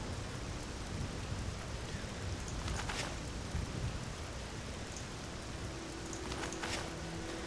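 Steady rain hisses across the ground in the Morrowind world, run through the OpenMW engine, a dense even wash of drops with a few brighter splashes and a faint low hum underneath, with no voices.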